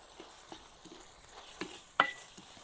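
Onions sizzle softly in a hot pan, with a few stirring scrapes and one sharper clack of a utensil.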